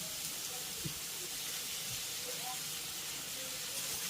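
Diced potatoes with turmeric and salt frying in hot oil for ghugni, a quiet, even sizzling hiss that runs unbroken throughout, with faint low bumps underneath.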